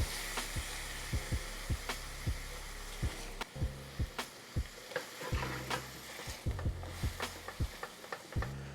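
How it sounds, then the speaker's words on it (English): Pasta water splashed into a hot skillet while making lobster and shrimp garlic noodles, sizzling steadily under a rhythmic series of utensil taps and scrapes against the pan. "I'm gonna add our first splash of pasta water"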